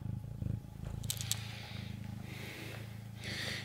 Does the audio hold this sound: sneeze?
no